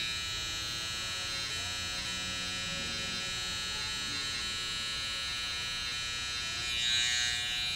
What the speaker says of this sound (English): Always go turn your clipper upside down and go against the grain on the nape